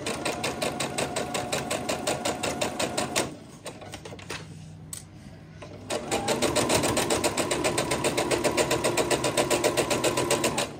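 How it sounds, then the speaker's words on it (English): Sewing machine stitching quilt pieces, a rapid even mechanical chatter that runs for about three seconds, stops briefly, then resumes at a steady pace. "I'm going to stitch right off the edge there, then take the next piece and sew that one."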